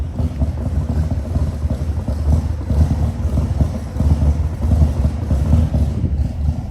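A pro mod drag car engine rumbling from a few cars back in street traffic, a deep continuous low roar mixed with wind buffeting, heard from inside a moving vehicle without talk.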